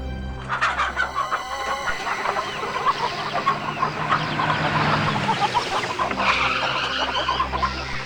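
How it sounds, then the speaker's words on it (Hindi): Many chickens cluck and squawk at a poultry farm, a dense nearby chorus of overlapping calls over a low background rumble that continues steadily throughout. "हमारे यहाँ मुर्गियों के अलावा कुछ नहीं मिलेगा।"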